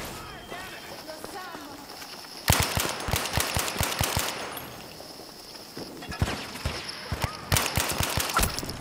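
MAB 38 submachine gun fire in a multiplayer shooter on an underground map: rapid, loud bursts of close automatic shots, with clusters of single rounds and echoing battle noise, while players talk over voice chat.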